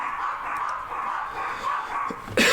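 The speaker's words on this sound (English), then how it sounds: "If you can hear my dogs in the background" Dogs barking a few times in the background, fairly distant, over a steady broadband noise.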